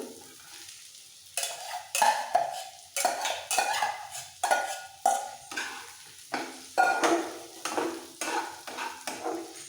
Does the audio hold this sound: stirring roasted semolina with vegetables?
yes